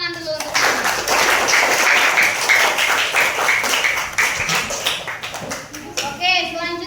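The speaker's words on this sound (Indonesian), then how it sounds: "Beri tepuk tangan dulu untuk teman" Children in a classroom clap for a classmate, a burst of brisk, close applause that fades within seconds, with a teacher and kids talking over and after it.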